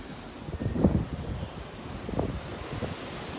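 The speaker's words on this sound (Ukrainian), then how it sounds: "море трохи штормить" Choppy sea waves wash and surge under gusty wind noise, a few stronger swells rising and fading, no one speaking.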